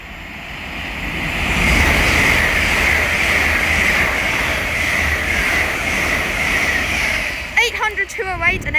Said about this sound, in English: We're about to have an LNER Azuma pass by from London King's Cross to Leeds.